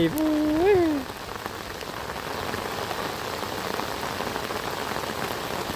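Steady heavy rain pattering over a sprouting rice field, a dense constant hiss that continues after a brief tonal sound at the start.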